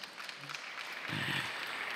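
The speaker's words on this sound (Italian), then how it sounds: "Facciamogli un applauso, Sofia" Applause from an audience at a live health-testimony event swells into steady clapping that carries on to the end.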